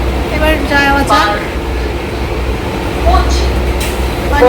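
Inside a slow local passenger train bound for Bardhaman and Howrah junctions, a steady loud rumble of wheels and carriage fills the air while people talk nearby.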